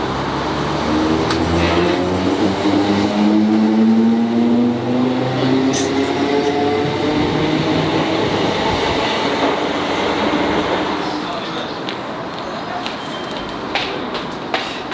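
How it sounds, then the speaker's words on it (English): First northbound passenger train at the newly opened Meridian Water station, rolling loudly and close with rhythmic wheel clatter and a rising motor whine, then easing slightly toward the end. "we're on the first northbound train."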